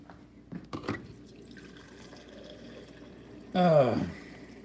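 Water pours into a drinking glass at a home sink, with a short rising gurgle that fills in and stops after scattered small clinks and background noise.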